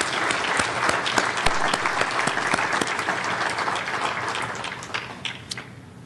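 Conference audience at an IPv6 summit breaks into dense, steady applause that holds strongly for several seconds before slowly thinning toward the end.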